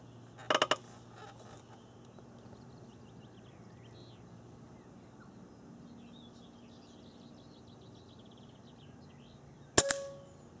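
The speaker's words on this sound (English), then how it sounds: "I just want to take a couple of test shots just to sort of see where my zero is" An AirArms S410 air rifle fires test shots outdoors: a quick cluster of sharp cracks near the start, then a long quiet stretch of faint ambience with distant birds, and one more crisp report near the end.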